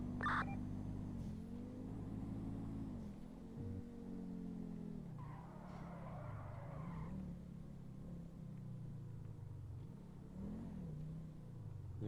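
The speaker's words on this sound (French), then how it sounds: "Il y a une voiture noire qui est passée en face là, non?" A car drives past in a GTA police roleplay game, its steady engine tone rising and falling as it shifts through gears and sweeps by, with a brief tire screech partway through.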